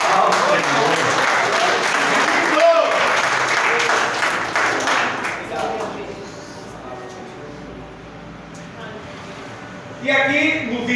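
Congregation applauding inside a church, a sustained loud burst of clapping that fades after several seconds, with a brief renewed swell near the end and a voice speaking through it.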